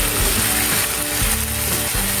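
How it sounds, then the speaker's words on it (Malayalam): Ground coconut masala paste hits a hot pan for a Kerala bottle gourd and green gram curry, giving a loud, close, continuous sizzle with scraping stirring, and no voices. "ഇനി നമുക്ക് അതിലേക്ക് അരച്ചു വെച്ചിരിക്കുന്ന ആ ഒരു അരപ്പ് ചേർത്ത് കൊടുക്കാം."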